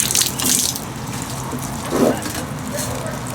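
Water trickles down from one stacked planter into the next, a close, uneven splashing and running sound with a couple of brighter gushes.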